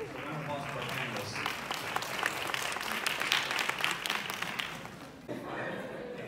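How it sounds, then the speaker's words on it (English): Audience applause for panelists at a nurse expo, lively clapping from a crowd with sharp individual claps standing out, swelling in the middle and easing near the end, with some murmured voices mixed in. "So round of applause for our panelists."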